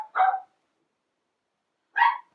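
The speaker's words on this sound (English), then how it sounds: "Sorry about the dogs." Two separate sharp dog barks, close and loud, spaced about two seconds apart with silence in between.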